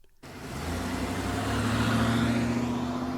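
A car engine starts up abruptly after a brief silence, then hums and rises steadily as it pulls away, a simple storybook-style driving-off effect heard alone.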